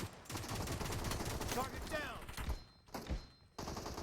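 Rapid automatic gunfire in PUBG Mobile rattles in a dense, loud burst, then gives way to scattered thuds and shorter volleys while players' voices chatter over the game.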